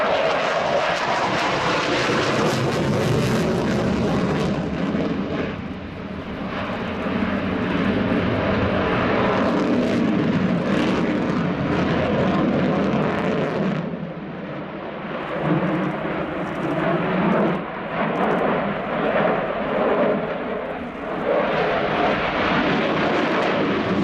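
A Ukraine Air Force Sukhoi Su-27P jet fighter flying a display at the RIAT 2017 airshow, a continuous loud roaring jet engine rising and falling as the aircraft passes and maneuvers, without voices.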